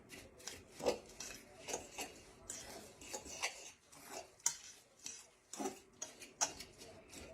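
Broccoli casserole mixture being stirred in a bowl, giving soft, irregular scraping and clinking strokes of a utensil against the dish, close and fairly quiet, in uneven bursts with short pauses between.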